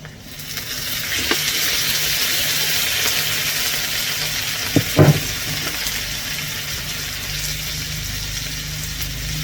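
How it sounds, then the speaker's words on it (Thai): Water pours into a hot wok of stir-fried rice vermicelli with egg, giving a steady loud sizzle and hiss throughout, with a couple of sharp spatula clanks near the middle. "แล้วเราก็ใส่น้ำลงไปค่ะ"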